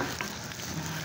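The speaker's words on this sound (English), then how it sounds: "Saute lang natin siya ng sa medium heat." Mushrooms sauteing in a pan over medium heat for a creamy mushroom prawn dish, giving a steady soft sizzle throughout with no talking.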